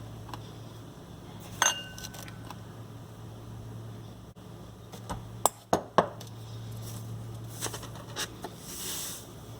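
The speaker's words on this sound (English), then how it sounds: "So I'm going to put in about 5 spoons of sugar." Sugar spooned into unsweetened applesauce for a sweet and spicy chutney, heard as a few sharp metal-on-glass clinks and light taps from a spoon against a bowl, spread out over a low steady hum with no talking.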